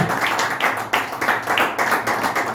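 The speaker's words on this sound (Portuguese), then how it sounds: "aplauda o Senhor" Worship congregation clapping together in praise inside a church, a steady run of rhythmic claps with regular bursts, close and fairly loud, no voices over it.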